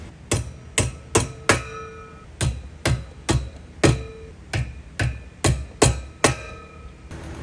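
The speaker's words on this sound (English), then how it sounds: "Doesn't say to use a hammer, but be sure if you do use a hammer," A hammer strikes parts of a Spalding 54-inch acrylic portable basketball goal during assembly: about a dozen sharp, loud, close blows in a steady, slightly uneven rhythm, with no talking.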